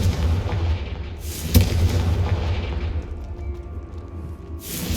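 A Confringo spell blast goes off in the video game Hogwarts Legacy, a sharp booming burst followed by rumbling fiery noise that fades, then another whooshing swell near the end, with no speech.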